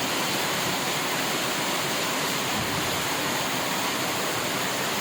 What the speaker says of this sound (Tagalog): Napakalakas ng ulan na ito.